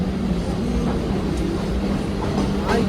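A Mumbai suburban local train rumbles along steadily at speed, a constant loud roar with a low hum, heard from on board.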